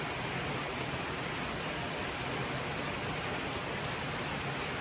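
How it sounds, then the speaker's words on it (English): Steady rain falls on a Sunday morning at the Bluffton boat ramp, a constant, even hiss of drops on surfaces with no gaps, moderately quiet and close. "Sunday morning, a rainy morning."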